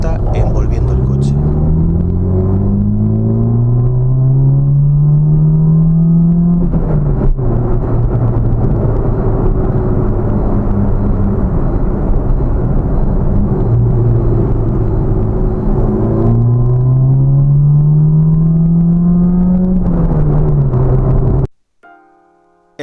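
A 1986 Ford Fiesta XR2 engine booms loud and close in an enclosed space, climbing in pitch through the gears twice with echoing reverberation before cutting off abruptly.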